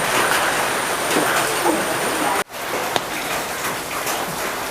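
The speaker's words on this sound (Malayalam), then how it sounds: "പുറത്ത് ഭയങ്കര മഴയാണ്" Heavy rain pours outside a home kitchen during biryani cooking, a dense, steady hiss that fills the whole clip, broken only by one brief dropout midway.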